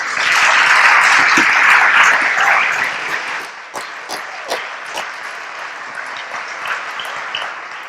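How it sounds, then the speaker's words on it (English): A crowd applauds the candidates at an evening meet-the-candidate gathering: loud, dense clapping for about three seconds that thins into scattered claps and then fades. "Please give our candidates a round of applause"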